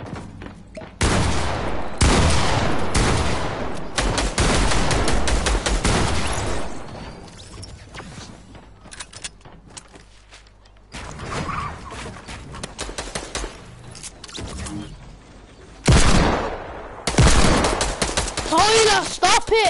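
Bursts of automatic gunfire in the video game Fortnite, loud and close, coming in long rapid volleys separated by short pauses, with a voice talking over parts of it.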